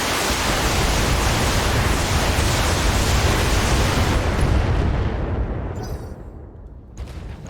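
Missiles are fired from a mech in the BattleTech video game: a long, loud, dense roaring barrage that fades out over the final seconds.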